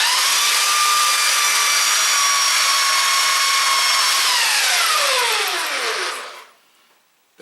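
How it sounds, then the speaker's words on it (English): A belt sander runs steadily on wood with a loud, continuous high whine and gritty hiss, then winds down and spins to a stop. "Watch how quickly I can sand some of that down."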